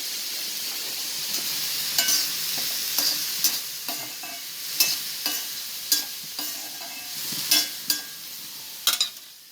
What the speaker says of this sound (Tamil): இந்த வானலில் கடுகு வெந்தயம் நல்லா பொரியட்டும்.